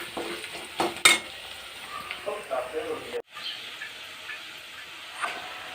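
A paste of onion, garlic and chili is fried with salt in a pan, a soft sizzle with occasional stirring and scraping clinks, fairly quiet, plus a brief sharp clatter near the start.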